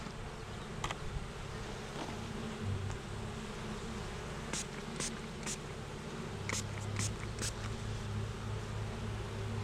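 Steady insect buzzing fills the background, with brief sharper bursts as individual bees fly close by; no talking.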